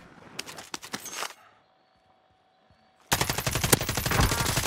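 Bursts of rapid automatic gunfire in Call of Duty: Modern Warfare 3, loud and close, a dense volley, a near-silent gap, then a heavier sustained barrage of overlapping shots.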